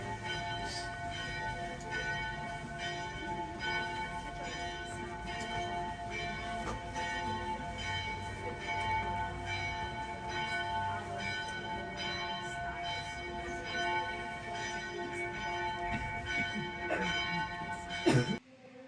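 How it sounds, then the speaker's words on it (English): Church bells ring continuously in Italy, a dense wash of overlapping metallic peals sustained throughout, fairly loud and steady, ending with a brief louder clang just before the close. "More bells."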